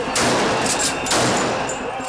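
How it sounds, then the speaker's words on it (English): Police firing tear gas and rubber bullets at protesters on the street, two loud sharp bursts of gunfire-like blasts with a noisy crowd roar filling the background. "Tear gas and rubber bullets hound the protesters."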